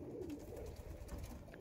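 Lambadi and Lalsira patta pigeons coo softly in a low, steady murmur that runs throughout, faint against a quiet background with no talking.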